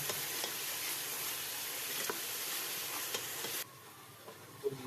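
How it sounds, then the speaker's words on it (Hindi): Ginger garlic paste frying with tomatoes in a pan for a chicken feet curry: steady close sizzle with spoon stirring scrapes, dropping to a quieter simmer near the end. "अदरक लहसुन को भी अच्छी तरह से भूनेंगे हम।"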